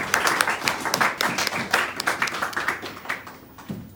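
A church congregation bursts into lively applause, many hands clapping close by in a dense, steady patter that gradually thins out toward the end, with voices mixed in.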